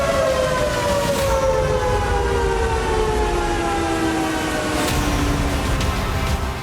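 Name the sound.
siren sounding after an attack on a dam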